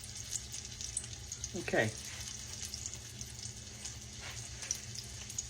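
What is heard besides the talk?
catfish nuggets frying in oil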